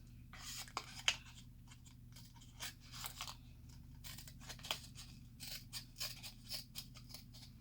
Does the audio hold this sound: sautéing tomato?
no